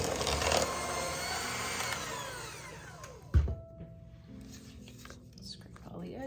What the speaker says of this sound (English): And you wanna mix this until it's smooth.